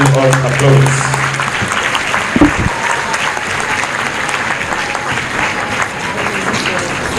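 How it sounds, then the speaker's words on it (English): A conference crowd breaks into sustained applause, dense clapping filling the room, with a voice briefly audible at the start. "we shall welcome her with a hand of applause"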